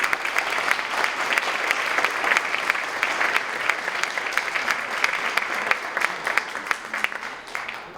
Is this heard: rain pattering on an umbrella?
no